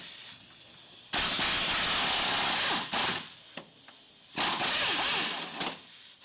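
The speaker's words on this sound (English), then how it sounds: "I'm using a deep socket, one of them." A power tool drives a deep socket on the lower control arm bolts of a 2002-06 Toyota Camry, in two or three loud whirring bursts separated by quieter pauses.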